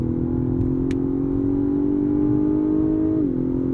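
A 2023 Lexus LS500 F Sport accelerates hard, its engine droning in a smooth, steadily rising tone heard from inside the cabin, then dipping briefly at a gear change near the end.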